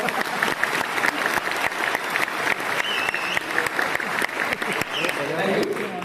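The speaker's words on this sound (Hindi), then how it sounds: "ताली बजाना है तो प्रॉपर्ली सब लोग ताली बजाओ" An audience claps together at a Hindi-language cyber fraud awareness event, dense steady applause filling the room at close range, with voices faintly under it.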